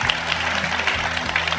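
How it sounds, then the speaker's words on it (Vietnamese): A studio audience at a Vietnamese dating show claps continuously, a bright, even wash of many hands over a low sustained tone underneath. "Vỗ tay lớn hơn nữa đi nhờ."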